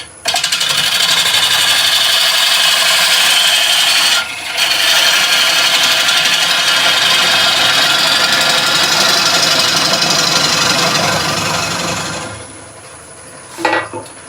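A wood lathe turns a bowl, its tool scraping with a loud, continuous rasp as the bottom is cleaned up, then pauses briefly and resumes before fading near the end, with a short knock afterward.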